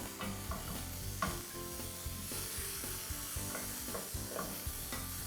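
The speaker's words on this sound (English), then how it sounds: "So we have here some zucchini and some summer squash. I'm going to cook that." Zucchini and summer squash cooking in a pan, a continuous close hiss and sizzle with occasional soft scraping of a utensil, steady and fairly quiet throughout.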